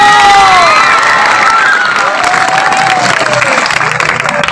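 Junior high school students at an orientation week cheer and clap together, a loud, dense crowd roar with shouting voices and rising whoops sustained across the whole stretch.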